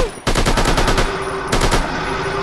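Rapid machine-gun bursts fire at Bigfoot in an Android video game, two loud rattling volleys of evenly spaced shots with a brief gap between them.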